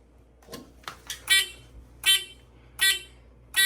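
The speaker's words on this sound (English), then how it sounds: "you can see how much happier that buzzer sounds" A 1970s Edwards 6500 two-stage fire alarm control panel buzzer, running on battery power, sounds in short repeated beeps, about one every three-quarters of a second, loud and close, after a couple of softer clicks.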